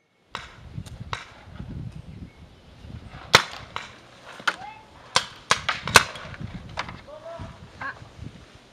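Sharp snapping shots from paintball markers during an outdoor paintball game, single pops and quick bursts spread across the scene, some close and loud, heard among shouting voices.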